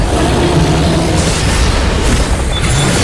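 A turret blown apart in a video game, a loud, dense, booming explosion with a rumbling crash that fills the whole moment without pause.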